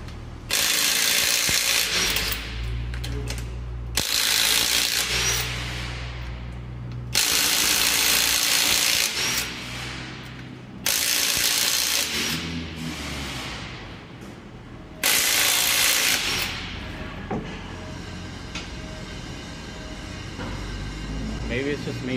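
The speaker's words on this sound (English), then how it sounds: "half inch 18 volt impact wrench" A Ryobi half-inch 18-volt brushless impact wrench fires off five loud, rattling hammering bursts, each lasting one to two seconds, separated by short pauses with only faint background noise.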